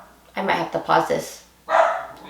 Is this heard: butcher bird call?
no